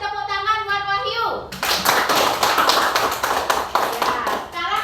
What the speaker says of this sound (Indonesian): Kasih tepuk tangan buat Wahyu.